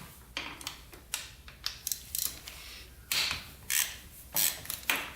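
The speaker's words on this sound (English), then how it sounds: "Let's try to get these head bolts off. There's 4 of them. 12 mil." A ratchet working on the 12 mm head bolts of a Raptor 700 ATV engine that sat outside for 13 years, giving bursts of rapid clicking with short pauses between them, close and fairly loud, with no voices.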